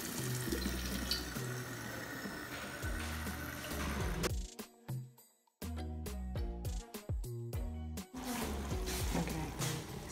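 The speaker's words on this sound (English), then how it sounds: "I'm just pouring the water." Tap water pouring into a pot for cooking spaghetti in a kitchen, a steady splashing stream that cuts off partway, then resumes with clatter and drips.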